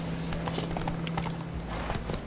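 A horse gallops in The Witcher 3, its hooves beating a quick, steady clip-clop that stays close and clear for the whole stretch, with soft game ambience underneath.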